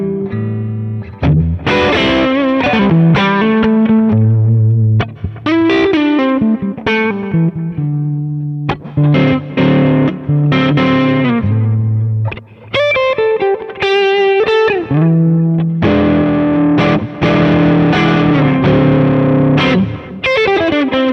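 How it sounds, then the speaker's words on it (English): Electric guitar through a Dumble-style amp on the NRB4 setting with more gain, played as loud, driven chords and single-note runs with a pushed, juicy tone over a continuous phrase, with no talk. "you're gonna hear an amp that's less scooped blackfacey"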